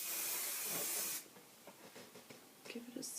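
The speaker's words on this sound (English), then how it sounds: "Give it a spray" Hairspray from an aerosol can hisses in one steady burst onto hair for about a second, close and fairly loud, then cuts off, leaving faint handling noises.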